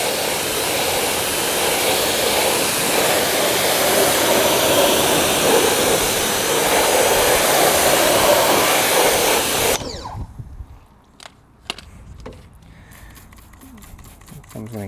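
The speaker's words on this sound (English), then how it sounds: "I'm gonna rinse it, I'm gonna spray it again to get all the spokes." Loud, steady hiss of a water sprayer rinsing the spoked wheels of a 2022 BMW G80 M3 Competition for about ten seconds, then cutting off abruptly, leaving only a few faint clicks and drips.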